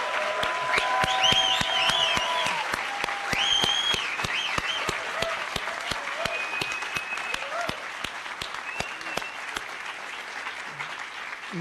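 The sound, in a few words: applause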